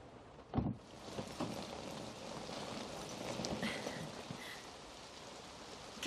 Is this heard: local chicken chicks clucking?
no